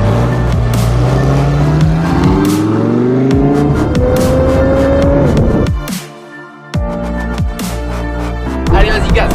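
An Alfa Romeo 8C Competizione engine revs loudly and climbs through the gears while driving, then drops off abruptly before picking up again with sharp bursts.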